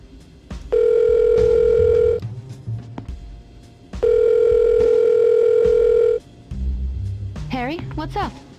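A phone call placed in the video game Silent Hill: Shattered Memories: two long steady ringback tones separated by a pause, then a warbling electronic burst, with someone talking quietly underneath.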